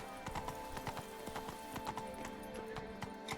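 Horse hooves clip-clop in a video game, a quick steady trot of light, rhythmic knocks over a faint background hum, with no voices.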